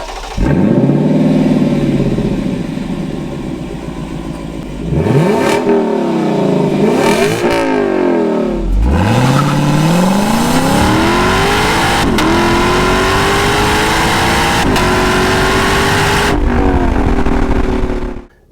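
A naturally aspirated V6 in a Lexus IS350 F Sport revs hard and accelerates, rising through several gears with brief dips at each shift, loud and close throughout.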